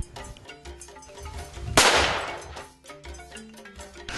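A single sharp rifle shot fired at a nyala during a hunt, a sudden loud crack with a short decaying echo, set against quiet outdoor background noise.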